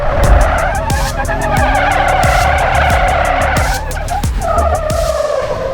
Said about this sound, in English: we have another Bronco coming into it right now